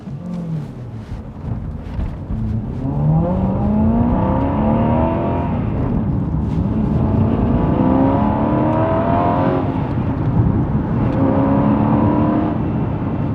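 An Aston Martin V8 Vantage with the 4.7 engine driven on a test loop, its V8 rising in pitch through several gears with loud, close revving, brief dips at the shifts, and a steady engine note held near the end.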